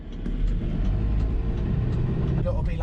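A bin lorry engine idles and rumbles in a village street, a steady low drone close by, with people talking over it.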